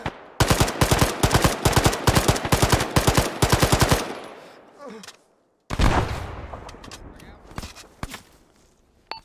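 Suppressive automatic fire in Arma, a fast string of loud rifle shots for about four seconds, then a pause, a heavier burst, and a fading echo, with faint movement noise.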